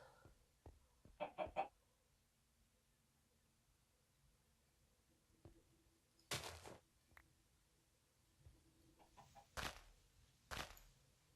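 Chickens in the Minecraft FTB Infinity Evolved game give a few short, quiet clucking bursts spaced apart over a faint, near-silent background.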